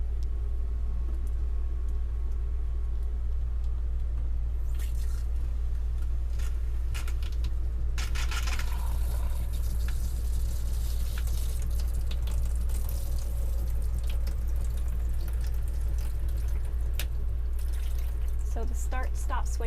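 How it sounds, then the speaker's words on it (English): Water runs steadily from a tap into the sink of a 2022 Thor Sanctuary/Tranquility 19P camper van, a constant rushing hiss over a low hum, with some splashing partway through. "I'm going to let the water run into the sink"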